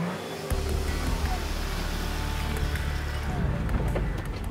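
An off-road vehicle grinds along a rough jungle road, its engine a steady loud low rumble with knocks and jolts from the uneven track, continuous throughout and close.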